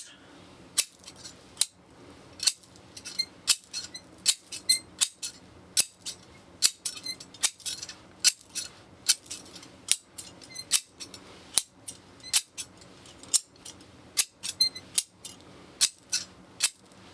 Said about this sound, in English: You hear the sounds cutting into the chains.